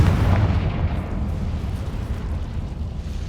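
A Confringo fire spell explodes in the video game Hogwarts Legacy, giving a loud, deep, rumbling blast that holds as a dense roar for several seconds without clear separate hits. No one speaks.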